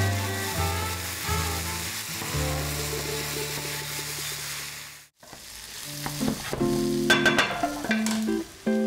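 Onion sizzles in a frying pan while being stirred, a steady close crackle with scraping stir sounds, accompanied by background music.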